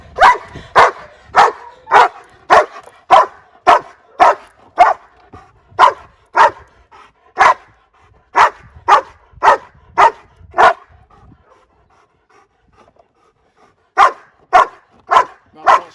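A German Shepherd in civil aggression training barks loudly and aggressively in rapid, evenly spaced bursts, pausing briefly before resuming with another run of sharp barks, close and clear with no talk.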